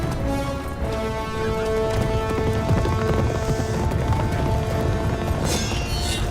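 Hooves clatter in a galloping horse scene from the film Baahubali: The Beginning, their quick rhythm riding under a loud, dense orchestral score.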